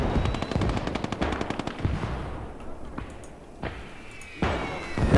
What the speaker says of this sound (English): That machine gun's punishing somebody.